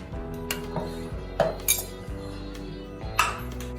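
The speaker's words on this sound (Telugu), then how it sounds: "వీటిని చిన్న చిన్న ముక్కలుగా కట్ చేసి మిక్సీ జార్లో వేసుకోవాలి" Boiled potatoes being cut into small pieces on a kitchen surface give a few quiet, sparse knife taps and light metallic clinks, close by, with no voices.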